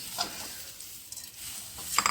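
Aval (flattened rice) mixture stirred in a pan, with scraping, rustling strokes at an irregular rhythm and a few sharper clinks toward the end, close and fairly quiet.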